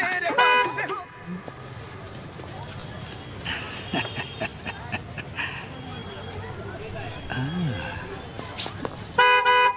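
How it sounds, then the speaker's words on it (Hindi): Short car horn toots sound at the start and again at the end, with muffled talking and street noise in between. "रोड में गाड़ी तो दिख नहीं रही, खामखा हॉर्न क्यों बजा रहे हो?"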